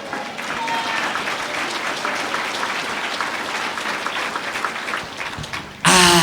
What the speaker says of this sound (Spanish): Fuerte aplausos a Cristo Jesús.